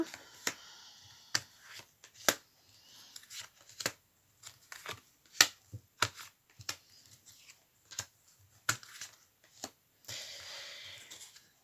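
Tarot cards are handled close up, shuffled and drawn in a series of short, crisp flicks and slaps with quiet pauses between, ending in a brief soft riffle; no one speaks.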